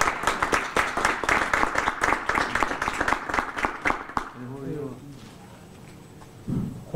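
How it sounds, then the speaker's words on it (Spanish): Roughly four seconds of dense clapping fill a community meeting in Villa 31, then the applause cuts off and a voice speaks over a quieter room. "Un aplauso para."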